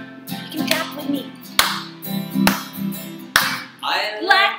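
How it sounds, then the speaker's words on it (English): Hands clap along to a children's nursery rhyme about apples and bananas, sharp claps landing in a loose rhythm over the music with a voice mixed in. "You can clap with me"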